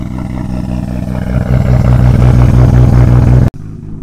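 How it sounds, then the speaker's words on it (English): A Nissan R33 GTR with a cammed engine and titanium exhaust revs up close, its loud, lumpy rumble rising and holding before cutting off sharply, then settling to a quieter idle. "Before you couldn't really tell the car was cammed. Now you can really hear the cams."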